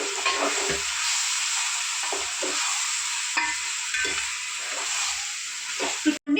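Marinated chicken frying with tomatoes in a pan, a steady loud sizzle and hiss with repeated scraping stirs of a utensil throughout, close by.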